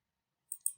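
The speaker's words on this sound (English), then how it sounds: "So we can rename this by left clicking on it" Two quick, crisp computer mouse clicks in a quiet room while renaming a table in data modeling software, the pair coming close together near the end with a faint low thump trailing after.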